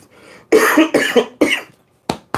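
Someone coughs hard three times in quick succession, close up, followed by two shorter sharp coughs.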